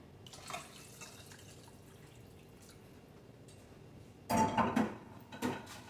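Water poured into a cooking pot of onion and carrots in a home kitchen, a soft trickle followed later by a louder splashing pour with light clinks of the pot, close and quiet with no talking.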